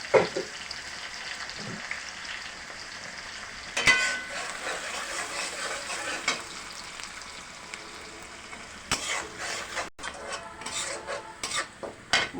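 Onions frying in a pan with cinnamon, cloves and cardamom for a roast masala, soft continuous sizzle broken by clattering stirs and spatula scrapes against the pan.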